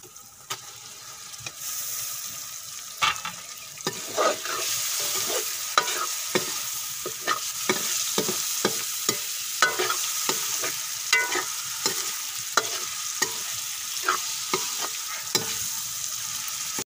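Mutton liver frying with masala in ghee, a continuous sizzle broken by frequent sharp scraping and stirring clacks of a utensil against the pan, close and fairly loud, with no talking.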